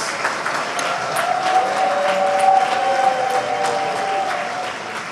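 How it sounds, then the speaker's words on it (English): Audience applauds steadily at a Liberian diaspora annual conference after a keynote speaker is introduced, a dense wash of clapping holding for several seconds with a faint tonal hum running beneath it. "Applause."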